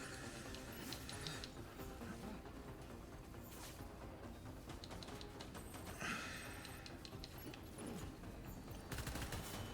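Gunfire in Death Stranding, scattered bursts of automatic shots and crackling reports, fairly faint and distant amid a continuous noisy background, recurring irregularly.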